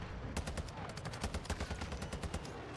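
TAQ-V rifle fire in Modern Warfare 2 on the Shipment map, rapid bursts of sharp close shots cracking in quick succession, loud and dense over a few seconds.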